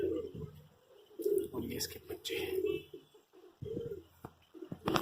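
Pigeons held in hand with their young give low, soft coos up close, repeated in short rolling phrases while someone talks over them.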